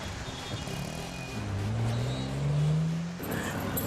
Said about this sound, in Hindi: भाई साहब, उस गाड़ी के पीछे चलो जल्दी।